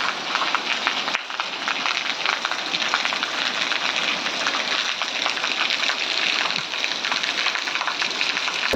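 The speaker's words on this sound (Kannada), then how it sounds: "ಜೋರು ಮಳೆ ಬರ್ತಾ ಇದೆ, ನೀವು ನೋಡ್ತಾ ಇರ್ಬೋದು" Heavy monsoon rain pours steadily in Dakshina Kannada at the start of the rainy season, a dense, unbroken hiss of downpour close by that holds constant throughout with no voices.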